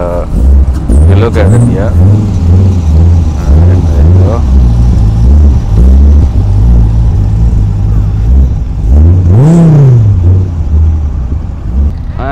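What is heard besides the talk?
Dodge Viper sports car engine revving as it drives out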